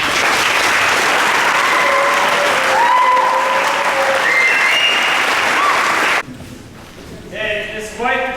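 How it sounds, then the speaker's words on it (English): A banquet audience gives loud, sustained applause for senior football players, with a few cheers and whistles rising over the clapping before it drops off, then a short burst of scattered claps and whistles returns. "Let's give these seniors one big round of applause."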